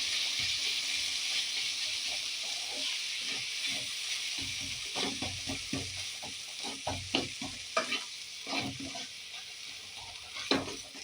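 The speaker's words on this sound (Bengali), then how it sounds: "এবার মশলার সঙ্গে আলুটাকে আমি ভালো করে ফ্রাই করে দেবো।" Mashed potatoes fry with spices in a pan for Mumbai-style vada pav, giving a continuous loud sizzle and hiss while a spoon scrapes and stirs in irregular strokes.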